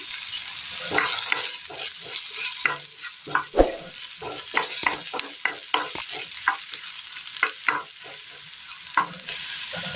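A spatula scrapes and stirs through sautéing vegetables and chilli powder in a pan for a Kerala dish, giving soft irregular clicks and scrapes over a faint sizzle, close up and with no talking.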